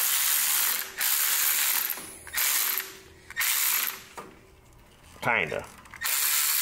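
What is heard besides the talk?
socket wrench ratcheting on an engine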